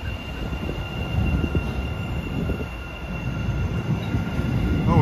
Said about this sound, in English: as a Boston bound train approaches, as Oak Grove train departs